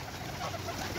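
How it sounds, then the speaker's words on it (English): Pigeons coo softly in a park by a pond with ducks and geese, a short, close, steady murmur of cooing. "but there's so many pigeons"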